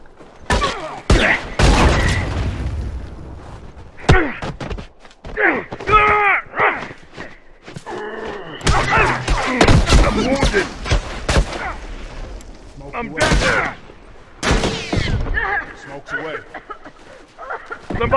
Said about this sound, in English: Bombs armed, heads up. Fire in the hole!